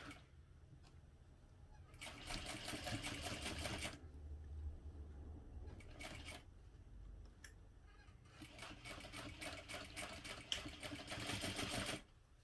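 Bursts of a sewing machine stitching a Bobby backpack from a Sincerely Jen pattern, running in a couple of short runs and then a longer steady run, fairly close, with pauses between.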